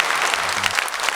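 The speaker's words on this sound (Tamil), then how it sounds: "ஒரு கைத்தட்டல் கொடுத்து நம்ம அவரை வரவேற்கிறோம்." A stage audience at a Tamil debate event claps to welcome a speaker, a dense, loud burst of applause from a crowd that fills the whole short stretch.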